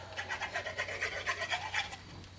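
A paper panel of a treat bag box being rubbed by hand, giving a soft, rhythmic rasping scrape in quick repeated strokes, close and fairly quiet over a low steady hum.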